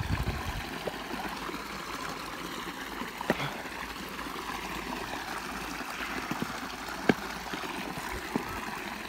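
Water flows out along a field channel that has been partly blocked with bricks, a steady broadband rushing and trickling that stays even throughout, with a few faint clicks and knocks and no speech.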